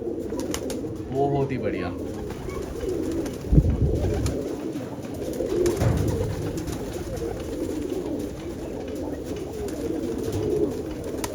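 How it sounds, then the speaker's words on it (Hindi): Pink-breed pigeons coo softly and steadily through the clip, with a brief speaking voice heard briefly among the birds. "गुलाबी नस्ल के कबूतर बहुत ही कम देखने को मिलते हैं"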